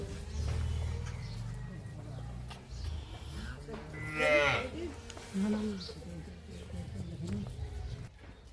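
Cows with calves at a cattle market in Dinajpur low and moo a few times at moderate distance, amid background bustle and people talking.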